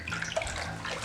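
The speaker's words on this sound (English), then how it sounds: "So you pour it in and you're literally just rinsing out the ogi" Water pours into a cloth or bag while soaked ogi corn paste is rinsed, giving a brief, close splashing and trickling sound with bubbly gurgles.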